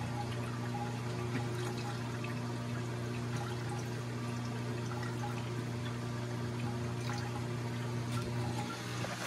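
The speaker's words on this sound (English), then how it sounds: "It's draining." A GE WWSE5240G3WW washing machine with a slow-spin fault drains its water in a steady, continuous rush with a low motor or pump hum beneath, constant in level throughout.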